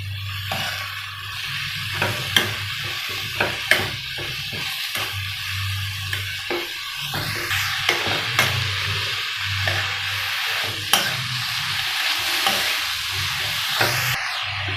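Cabbage sizzles in a pan on a low flame as it is mixed, a soft continuous frying hiss punctuated by repeated scraping and tapping strokes of a spoon, close up and without speech.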